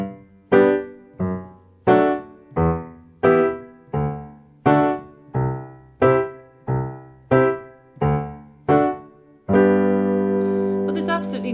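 An Irish piano tune with an added octave leap in the bass plays as a run of evenly spaced, struck chords that ends on a sustained, fading chord, close and clear with a faint sound at the finish.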